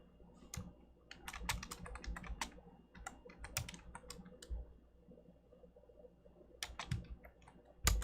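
Rapid bursts of clicky keystrokes on a computer keyboard, close and fairly quiet, arriving in uneven clusters with short pauses between them and no talking.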